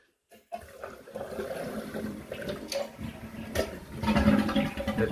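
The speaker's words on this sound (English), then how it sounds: "as we flush, let's see if I can do this all with one hand" A toilet flushes with rust stain cleaner in the bowl, a click of the handle followed by a steady rush of water that builds and swells toward the end.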